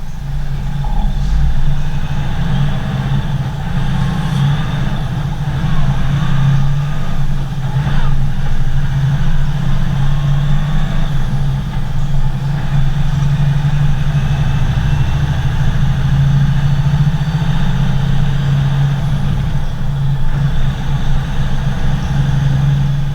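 A truck engine drones steadily up close while the driver speed shifts through the gears, a heavy low rumble that holds evenly throughout with little break.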